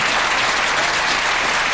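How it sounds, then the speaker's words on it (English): A studio audience at a 2005 television awards show breaks into dense, loud, sustained applause, many hands clapping together with no break. "Give her a round of applause"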